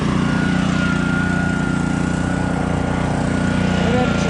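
Standard small motor on a dry washer gold prospecting machine drones loudly and steadily throughout, with a steady hum underneath and a voice speaking over it.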